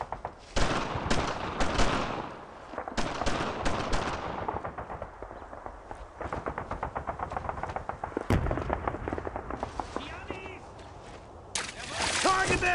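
Heavy gunfire from a World War II squad firefight in Brothers in Arms: dense, continuous volleys of rapid rifle and machine-gun bursts, with loud sharp cracks and booms. Shouted voices come through under the shooting.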